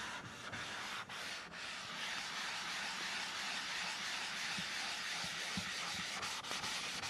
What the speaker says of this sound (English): the sound is quieter right away, and that's because it's a smaller diamond